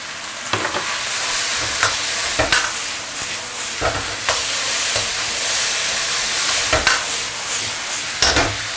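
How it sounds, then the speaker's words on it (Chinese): Pork shreds stir-fried in a wok over the highest heat, a constant loud sizzle punctuated by sharp metallic clanks of the spatula at irregular intervals, close up. "好，最大的火去翻炒它。"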